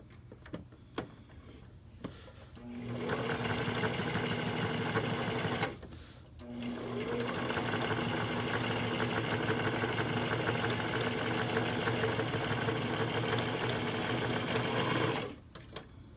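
A sewing machine stitches down a fabric seam in two long steady runs, a loud even mechanical whir broken by a short pause, with quieter handling noise before and after.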